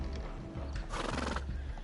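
A horse whinnies loudly over the clatter of hooves in the video game Sherlock Holmes: The Devil's Daughter, a shrill neigh rising in the middle and fading out.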